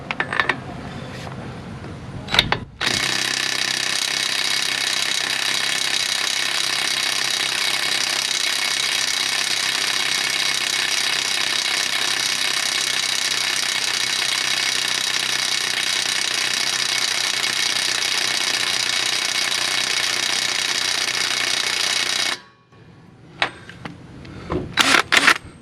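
A DeWalt 3/8-inch impact wrench rated at 500 foot-pounds runs at high speed, turned all the way up, in one long loud continuous burst of about twenty seconds, with brief clatter before and after.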